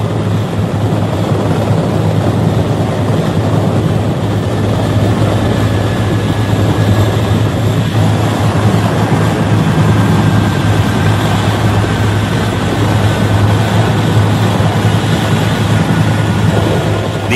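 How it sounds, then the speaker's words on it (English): Loud, continuous rotor and engine roar of US Navy 7th Fleet helicopters during the 1975 Saigon evacuation drones steadily throughout, close and unbroken, with no voices. "a constant shuttle of naval helicopters from the American 7th Fleet airlifted out of that embassy"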